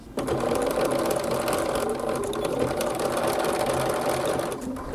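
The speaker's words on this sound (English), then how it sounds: "we're just going to do a little tiny stitch to hold it across there and back stitch" A sewing machine stitches lace lingerie straps, running in one steady, close, rapid whir of small back-and-forth stitches for several seconds.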